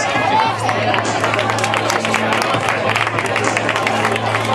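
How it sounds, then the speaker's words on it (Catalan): Crowd applause and cheering at a prize ceremony for a popular aquathlon race in Blanes, a continuous roar of clapping and chatter with a steady low hum underneath. "Vinga, un fort aplaudiment."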